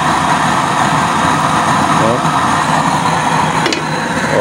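A 3-inch heavy-duty burner with a curved, no-top-holes nozzle, 20 holes and a 6 cm chamber roars loudly and continuously at full power, a dense steady rushing sound.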